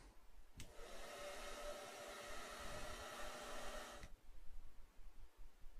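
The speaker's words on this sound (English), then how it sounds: "The hairdryer was perfect." A hair dryer blows on wet clothes in the video game Broken Sword: The Sleeping Dragon, switching on abruptly, droning as a steady airy whir for about three and a half seconds, then cutting off sharply, fairly quiet and alone.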